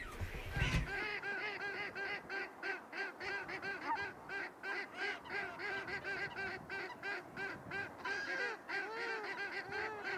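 A flock of wild geese honks continuously, many overlapping calls in a dense, rhythmic chorus that stays fairly loud and close throughout, with a brief louder burst at the start.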